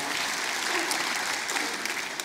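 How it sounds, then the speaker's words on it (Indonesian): A church congregation applauds the youth team, steady dense clapping from many hands filling the room at even loudness throughout. "berikan tepuk tangan buat tim youth"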